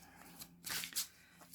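A deck of card-reading cards is shuffled by hand, faint, with two brief papery riffles near the middle of a quiet stretch.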